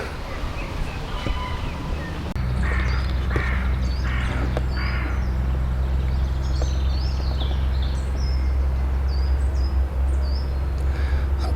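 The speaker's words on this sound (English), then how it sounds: "Just listening to the bird song." Birds calling outdoors, with crow-like caws and scattered high chirps over a steady low rumble, all fairly distant and continuous.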